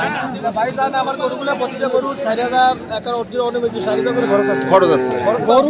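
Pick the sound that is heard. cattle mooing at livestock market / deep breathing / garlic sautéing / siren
cattle mooing at livestock market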